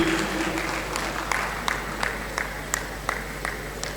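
Audience applause at the team draw ceremony of a football tournament, heard as faint, sparse and scattered claps over a low hall hum, with a few sharper hand claps standing out.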